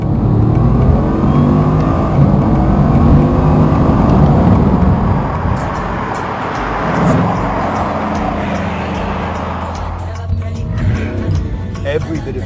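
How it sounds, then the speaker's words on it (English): The Bugatti Chiron's engine revs loudly, a heavy whooshing roar that swells and then eases, with a person talking over part of it. "That engine, it's not like being in a car in the normal sense, and it's like having an industrial power station, whirring and whooshing and ingesting vast amounts of air."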